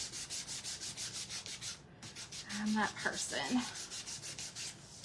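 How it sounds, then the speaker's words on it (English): Rhythmic back-and-forth sanding rubs across a blue-painted wooden angel craft piece, steady close strokes that pause briefly while someone speaks, then resume. "then you're coming back and sanding it"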